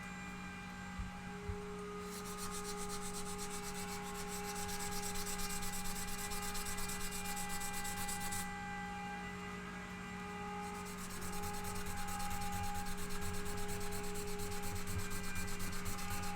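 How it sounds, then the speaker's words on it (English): A wooden guitar body is sanded by hand in two long bouts of soft, steady scratching, separated by a short pause, over a constant low mains hum with no voices. "Nothing but the sweet sound of sanding."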